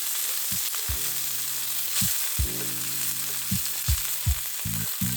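Cherry duck frying in a pan at a campsite, a loud continuous sizzle broken by low thuds and clunks of gear nearby, no talking.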